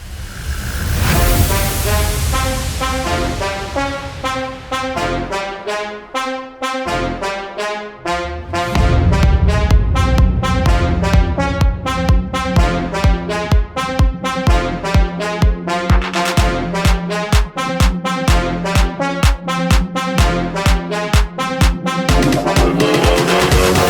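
A Brazilian bass electronic track opens with a sustained swell, then a punchy, repeating brass-like loop over a driving beat, loud and dense.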